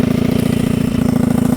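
A tuned 70cc drag motorcycle engine with a poor, low-inertia ignition runs close by, a loud, rapid, buzzing putter with a dense, even pulse and no voices over it.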